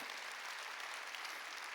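A church congregation applauds during a Sunday worship service. The clapping is steady and sustained but fairly faint, with no voices over it.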